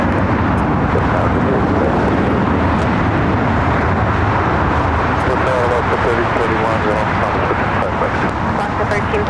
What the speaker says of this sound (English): It's 380 coming in from Sydney, Australia